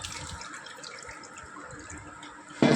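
Soaked tamarind water being strained through a sieve while making sweet-and-sour tamarind chutney, a steady close trickle and splash of liquid with a louder pour at the very end.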